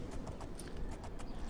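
Horse hooves clop at a steady riding gait while traveling a road in The Elder Scrolls IV: Oblivion, the sharp rhythmic strikes close and fairly quiet, with a faint bird call mixed in and no voices.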